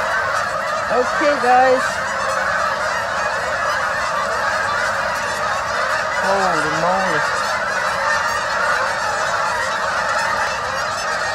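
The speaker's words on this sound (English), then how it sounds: "Well, I like the geese, but not when they're squawking that loud." Geese honk loudly in a few harsh bursts over a steady, dense background of flock noise, with someone speaking briefly at the start.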